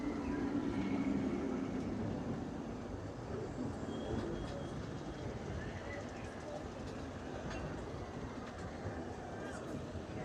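A train passes at Disneyland, a steady low rumble and rolling rattle that stays fairly constant for about ten seconds, slightly louder at the start, with faint background murmur.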